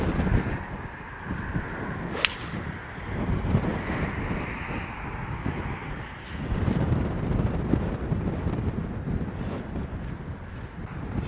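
Steady wind roars and buffets the microphone on a golf course, a continuous broadband rush with gusts swelling and easing, plus a brief sharp click early on; no talking.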